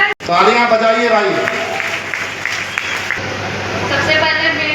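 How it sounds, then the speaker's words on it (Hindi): Audience applause fills a career-institute felicitation ceremony in Harraiya, a dense steady clapping wash running nearly throughout, with a voice heard briefly at the start. "तालियां बजाइए भाई।"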